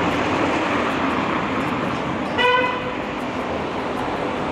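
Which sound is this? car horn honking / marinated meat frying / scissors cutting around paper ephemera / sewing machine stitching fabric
car horn honking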